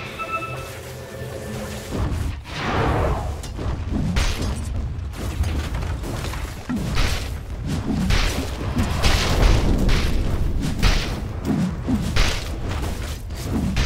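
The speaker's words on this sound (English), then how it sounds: "Dire's top tower is under attack." A tower comes under attack in Dota 2 with repeated booming impacts, heavy thuds and occasional whooshes, dense and loud throughout with no speech.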